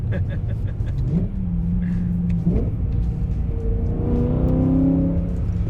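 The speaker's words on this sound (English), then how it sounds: "With this exhaust, you can feel the pure engine sound" A loud, rumbling BMW E92 M3 engine with a loud aftermarket exhaust revs and rises in pitch, its throaty exhaust note droning steadily and swelling toward the end.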